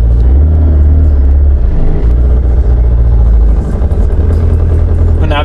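Race car engine idling with a low, steady rumble, loud and close, as the car is eased out toward the street, with someone talking over it.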